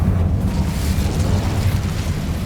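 The Incendio fire spell cast in the video game Hogwarts Legacy, a loud continuous roaring rush of flame with a heavy low rumble, steady and close for a couple of seconds.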